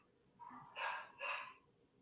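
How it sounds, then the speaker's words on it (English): Two faint, distant dog barks sound in quick succession in the background of a podcast recording, with a brief yip before them and no talking over them. "Apologize for my dogs right now."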